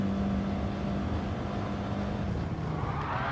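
A racing car runs the Goodwood Motor Circuit in a manufacturers' exhibition race, its engine a loud, steady close-up drone from inside the car with a constant tonal whine and no speech.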